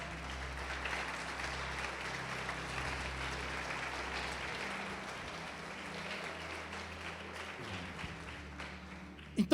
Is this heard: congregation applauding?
yes